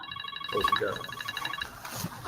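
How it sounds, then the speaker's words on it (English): A mobile phone rings with a repeated electronic chirping tone, fairly loud and close, over faint background voices and room noise. "It's my phone."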